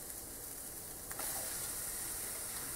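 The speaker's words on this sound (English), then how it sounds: "And I'll be stir frying this." Faint, steady sizzling hiss from pak choy stir-frying in a hot pan on an AGA boiling plate, continuous and quiet, with a soft scrape partway through.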